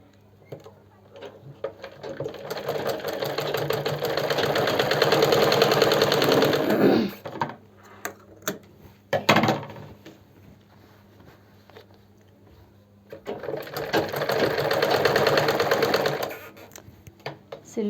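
Sewing machine stitching along the edge of a kurti neckline, two fast buzzing runs of rapid needle strokes separated by quiet handling clicks and fabric rustle, close and loud.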